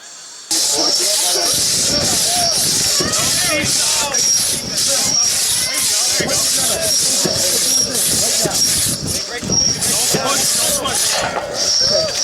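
A crosscut saw cuts wood at an outdoor timber sports event, producing a loud, rapid, rhythmic rasping of repeated push-pull strokes, close and continuous throughout.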